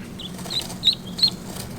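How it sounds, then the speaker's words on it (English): Young chicks on a farm give a few high, thin chirps, brief and soft against quiet background noise. "he hears them chirping"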